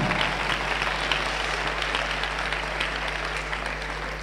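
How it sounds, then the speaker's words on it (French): A church congregation at a CMCI worship service breaks into sustained applause and acclamation, a steady dense wash of clapping and voices with a low hum underneath. "Acclamation."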